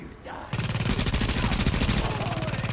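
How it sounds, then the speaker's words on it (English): A deployed turret in The Division opens up on rioters with a fast, continuous burst of loud automatic gunfire after a brief quieter moment, sustained rapid shots at close range. "I'm going to test out my handy-dandy turret. Pop that out"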